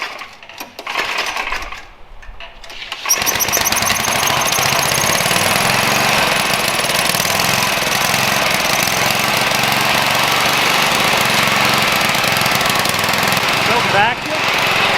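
The small engine of a homemade apple vacuum sputters briefly, then catches and runs loud and steady at a fast, rattling idle, close up and mostly uninterrupted, before dipping slightly near the end.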